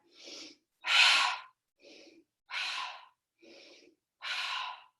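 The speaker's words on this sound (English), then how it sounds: "Use your fire breath." Forceful yoga fire breathing comes in six sharp bursts, alternating softer and stronger rushes of air, each about half a second long with short silent gaps, close and clear with no talking.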